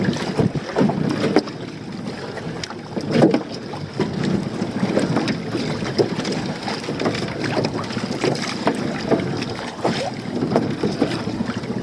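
A big boat's engine rumbles past a fishing dinghy as water sloshes against the hull amid gusty wind buffeting, with a steady low drone throughout and no talk.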